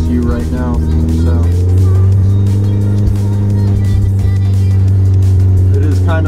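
A Volvo 240's engine holds a steady 2,500–3,000 rpm, giving a loud, continuous, even drone with strong low rumble that barely changes throughout, with brief traces of a voice near the start and end.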